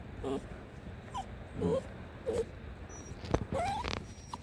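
A puppy whimpers in short high thin cries scattered over several seconds, fairly faint and near, with light pattering and soft background movement.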